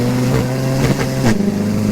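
A 900bhp front-wheel-drive SEAT Leon Cupra engine revs loudly up close, a strong droning tone that rises and dips in pitch with brief throttle blips.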